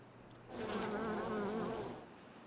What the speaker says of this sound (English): Okay, it's bees. Bees on the shrubs.